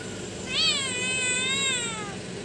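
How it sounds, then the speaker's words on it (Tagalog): A cat gives one long, drawn-out begging meow that rises and then slowly falls, close and clear, alone with no talk over it. "Nagmamakaawa ang pusa."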